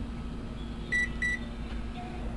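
A microwave oven heating a jar of peanut butter is set for five minutes with two short, clear electronic beeps close by over its steady low running hum.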